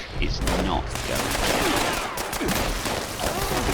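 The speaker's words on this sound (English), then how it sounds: "that's a lot of people shooting me" Dense, continuous gunfire from many enemies shooting at the player in Fallout 76, a loud overlapping fusillade of rapid shots that fills the whole stretch without pause.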